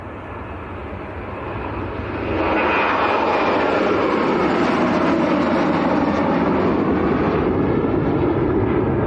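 An airliner at Leeds Bradford Airport, bound for Antalya, roars with a steady loud jet engine rumble that swells after a couple of seconds and holds, heard from nearby outdoors.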